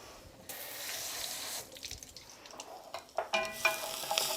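Quinoa is rinsed in a kitchen sink under a running tap, making a steady close rush of water that breaks into splashing and trickling as the grains are swirled, with no talking.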